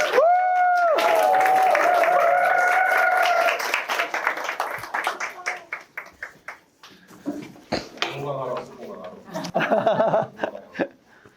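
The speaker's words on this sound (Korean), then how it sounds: "자, 박수할 때 여러분 어떻게 해야 돼요?" A crowd claps and cheers after a bright chime, the applause rising in bursts and fading, with voices mixed in.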